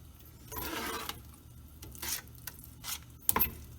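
Homemade playdough is stirred in a cooking pot, giving a few quiet scraping and sizzling strokes spaced through the moment, ending in a sharp little clink of the utensil against the pot.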